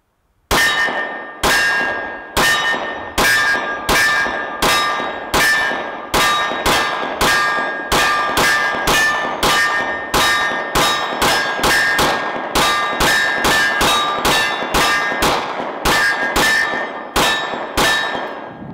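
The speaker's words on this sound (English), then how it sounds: "First shots fired on the CTS gong." A Glock 23 in .40 fires about thirty rounds at a steel CTS gong, each shot a sharp metallic clang with a ringing tail, in an irregular rapid string, loud and close with no talk.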